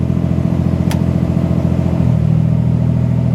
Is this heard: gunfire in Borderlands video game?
no